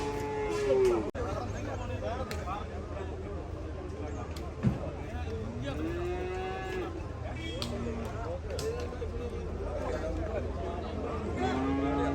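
Cattle and buffaloes at a busy livestock market in Manjeri, with repeated moos and lowing calls rising over a steady crowd murmur and nearby voices, one louder thump midway.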